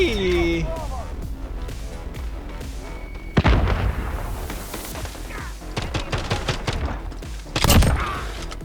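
Gunfire in Call of Duty Modern Warfare, with sharp bursts of shots and a couple of heavy booming impacts around the middle and end, mixed with game effects and talk over the top.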